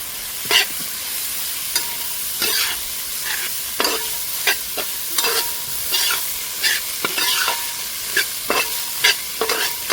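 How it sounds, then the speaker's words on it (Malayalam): Onions frying in a pan or kadai for a spicy small-chicken roast are stirred steadily with a spoon. The scraping strokes come in an irregular rhythm over a constant close sizzle, and no one speaks. "നമുക്ക് നന്നായി ഇളക്കി കൊടുക്കാം"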